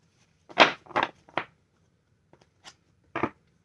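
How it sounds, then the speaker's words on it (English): Tarot cards being shuffled by hand in a quiet room, a few soft riffling bursts with short pauses between them. "Let's do 3 shuffles."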